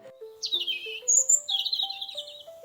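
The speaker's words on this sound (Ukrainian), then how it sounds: "Співають пташки." Bright bird chirps and trills ring out over a simple melodic tone, with several short calls in quick succession.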